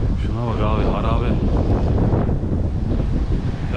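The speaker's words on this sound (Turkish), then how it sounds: "Felaket rüzgar var ha." Strong wind roars across a microphone in a small Belarusian town, a loud, steady low rumble with gusting surges throughout, while someone talks over it.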